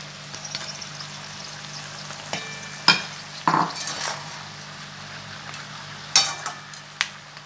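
Fish heads fry in a pan with Malabar spinach seeds, giving a low, steady sizzle broken by sharp clinks and scrapes as the mixture is stirred, a few louder knocks standing out.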